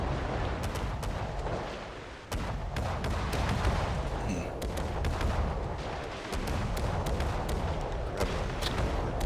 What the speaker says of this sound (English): I love these secondary guns.